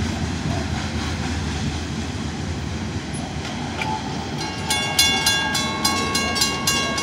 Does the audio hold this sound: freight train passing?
yes